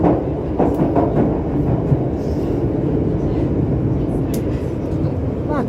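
A Piccadilly Line 1973 stock Underground train in a train simulator game runs steadily through a tunnel near Leicester Square, a continuous loud rumble with faint wheel clatter and no talk.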